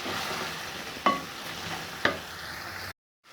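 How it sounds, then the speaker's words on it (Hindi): Cauliflower stir-fries with spices in a pan, a steady sizzle broken by two sharp spoon knocks against the pan about a second apart before the sound cuts off to silence. "अच्छे से हम भूनेंगे ताकि हमारा सारा मसाला जो है वो गोभी के अंदर अच्छे से जज़्ब हो जाए"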